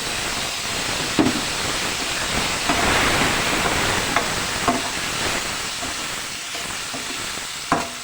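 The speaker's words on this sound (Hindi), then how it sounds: "4 से 5 मिनट फ्राई करने के बाद हम इसमें एक बड़े साइज़ का कटा हुआ टमाटर ये ऐड कर देंगे" Chopped tomato is added to black chickpea masala frying in a pan and sets off a loud, steady sizzle. A few sharp clicks break through the sizzle, and no one talks.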